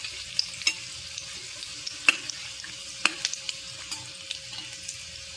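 Pudachi wadi, a coriander snack, frying in hot oil on medium heat, a steady close sizzle with occasional sharper pops and crackles, no voices.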